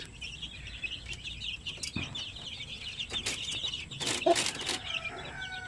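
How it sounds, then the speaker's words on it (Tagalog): Sixteen-day-old Shamo Aseel chicks peep and cluck softly in a brooding area, a busy layer of small chirps with a few louder calls and scuffs near the end. "So yan yung mga sisiw na 16 days old"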